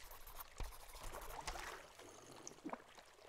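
Water spring trickling and flowing in the survival video game Die Young, a steady watery wash with a few brighter splashy drips near the end, moderately loud.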